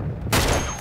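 A single sharp gunshot cracks out in the Uncharted 2 video game, a sudden loud blast at close range that rings briefly and fades.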